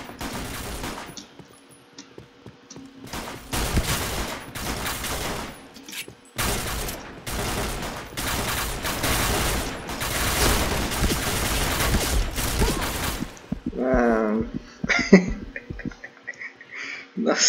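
Rapid bursts of gunfire from the Point Blank shooter game, loud and dense, with short pauses between volleys and a quieter stretch of scattered shots near the end.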